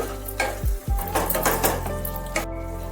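Fish curry with Kashmiri chili powder being stirred in a pan, a utensil scraping and clattering against the metal over a bubbling sizzle, close and fairly loud.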